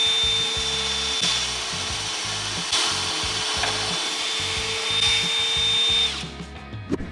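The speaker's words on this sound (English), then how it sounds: "Use your drill bit." A power drill whirs steadily in short repeated bursts, boring holes into wood for hidden countertop brackets, with brief pauses between pushes and the motor winding down at the end.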